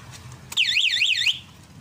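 A short electronic alarm on a Honda Click 125i motorcycle chirps once with a warbling, rising-and-falling tone, lasting under a second against quiet background.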